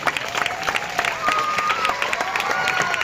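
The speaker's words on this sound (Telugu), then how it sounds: "ఒకటి చప్పట్లు వేసుకోండి." Audience at a school smart-classroom inauguration clapping in sustained, moderately loud applause, with a voice faintly running over it.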